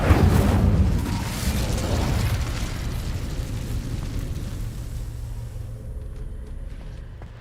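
An Incendio fire spell erupts in Hogwarts Legacy with a loud, booming burst of flame that rolls into a long rumbling roar, slowly fading over several seconds.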